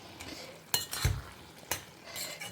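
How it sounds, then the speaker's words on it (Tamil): Indian gooseberry thokku with tomato, curry leaves and asafoetida being stirred and sautéed in a pan: a few scraping, clinking spoon strokes against metal over a faint sizzle. "இதை வதக்கினா போகிறோம்"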